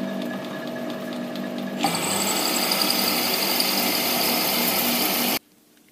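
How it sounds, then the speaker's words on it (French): A metal plate being counterbored on a machine tool for a Promécam RG 25 press brake reducer: a steady motor hum jumps into a loud, continuous grinding cut, then stops abruptly, leaving quiet. "maintenant je fais un lamage sur 20 de profondeur"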